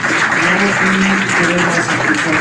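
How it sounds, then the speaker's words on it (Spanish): An audience gives loud, continuous applause for Professor Humberto Campodónico, a thick steady clapping throughout, with a faint voice murmuring underneath. "le damos un fuerte aplauso nuevamente al profesor Humberto Campodónico"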